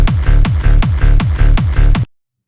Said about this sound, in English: with that hardstyle kick punch with the clap on top, it kind of glues the whole thing together